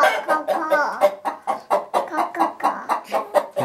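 Chickens cluck close by in a steady run of short, repeated calls at a farmyard in Kamenice in summer.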